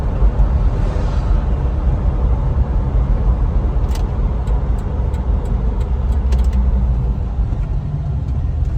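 A 2000 Jeep Wrangler drives around the block, its engine a loud, steady low rumble heard from inside the cab, with faint ticks and rattles over the road noise.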